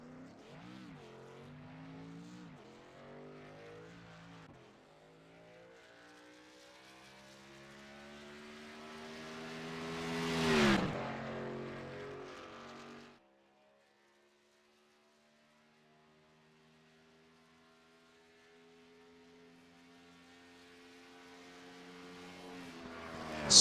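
A race car in the iRacing video game at Charlotte Motor Speedway rounds turn 4 on a qualifying lap, its engine note sweeping up to a loud pass around midway, then fading to near silence before rising again.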